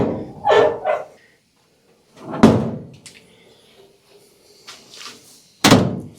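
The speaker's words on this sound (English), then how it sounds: "close the door, and see how we look." A 1956 Chevy's car door slams shut with a solid thud, followed by a few quieter knocks and clicks, then another firm slam near the end.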